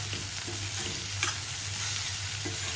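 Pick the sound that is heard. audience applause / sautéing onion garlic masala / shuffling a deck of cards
sautéing onion garlic masala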